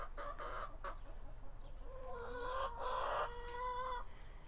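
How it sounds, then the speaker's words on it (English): Farm chickens clucking and crowing in an animated, overlapping chorus after morning rain, with a rooster-like call standing out near the middle; close and fairly loud, no talking. "we're going to walk past the chickens. They are quite animated this morning with the rain that we got."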